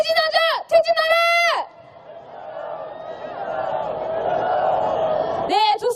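A candlelight protest crowd at a street rally, roaring and cheering together in a sustained wave of shouting. The roar swells in the middle and is framed by a loud voice calling out before and after it.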